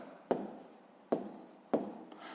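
A pen scratches across paper while someone works a fifth-grade math problem, making three short, quiet writing strokes with brief pauses between them.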